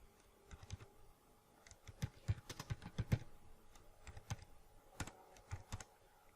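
Fingers type on a computer keyboard while writing a C program, producing quiet, close, irregular clusters of key clicks with short pauses between bursts.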